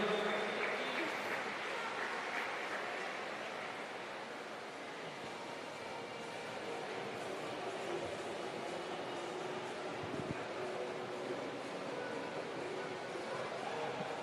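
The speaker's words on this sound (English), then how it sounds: "Big round of applause, Maya Rasmussen, ladies and gentlemen" A swimming championship crowd applauding in a large indoor aquatic venue, a steady faint wash of clapping that holds for about fourteen seconds without a break.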